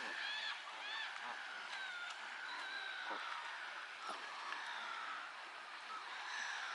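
A flock of Canada geese honks repeatedly at a moderate distance in a park in December, overlapping calls rising above a steady outdoor hiss.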